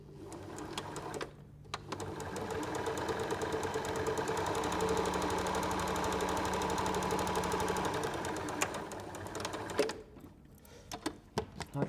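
A sewing machine stitches chequerboard quilt blocks, running in a rapid steady mechanical chatter for several seconds, pausing briefly near the start and stopping toward the end with a few scattered clicks.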